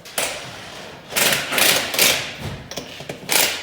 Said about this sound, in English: Put the tires back on the creeper